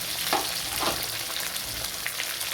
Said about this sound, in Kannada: ಕೆಂಪಾಳ ಈರುಳ್ಳಿ ಹುರ್ಕೋಬೇಕು